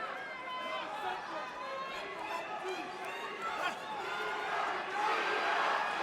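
Crowd at a live fight between Dino Bagattin and Tyron Rightford, a steady roar of cheering and chatter that swells louder toward the end, heard under an excited commentator's voice.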